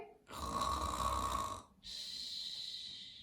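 A child imitates snoring with two long, noisy breathy snores, the second higher and hissier, close to the listener.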